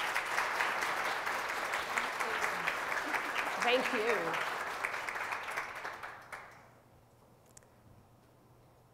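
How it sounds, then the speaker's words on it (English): A workshop audience gives a warm round of applause for Jacqueline, dense clapping sustained for several seconds before fading out, with a brief spoken thanks near the end. "Please, if we could have a round of applause, please, for Jacqueline"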